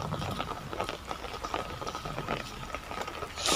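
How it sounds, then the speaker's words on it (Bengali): Heavy rain falling outdoors in a steady, dense patter at moderate loudness, with no one talking. "আজকে আমাদের এখানে খুবই বৃষ্টি হচ্ছে"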